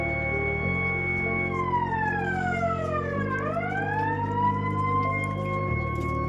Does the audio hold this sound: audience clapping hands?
no